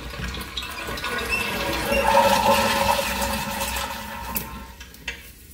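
A wall-hung toilet with a flushometer valve flushes in one loud, rushing surge of water that builds and then tapers off near the end, heard up close in a restroom with no talk.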